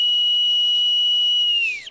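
A person whistles one steady, high, sustained note for almost two seconds, loud and close, with the pitch sliding downward as it trails off at the end.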